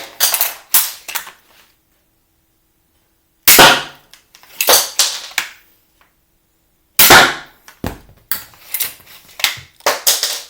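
Crossbow loosing broadhead-tipped bolts at a target: sharp loud snaps in three separated groups, each with a quick thwack and rattling tail, with silence between groups.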